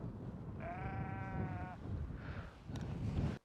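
Sheep bleat on a farm in one long, loud, quavering call, followed by a shorter, fainter bleat later, all over a steady outdoor background.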